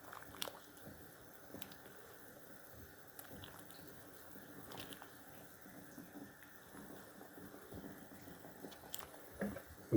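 Cats eating food nearby, with soft, steady chewing and biting sounds over a quiet background, close and fairly faint throughout.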